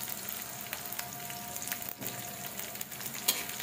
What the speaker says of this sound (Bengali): আপনারা ধীরে ধীরে জাল দিয়ে রসুনগুলা ভেজে নিতে হবে।